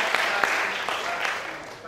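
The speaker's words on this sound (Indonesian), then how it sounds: "silakan minta tepuk tangan buat Tuhan ya" A brief burst of applause from a small seminar group, scattered claps forming a steady patter for under two seconds.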